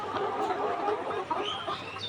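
A flock of young laying hens, about 139 days old and just starting to lay, clucks and murmurs continuously at close range, with overlapping soft calls.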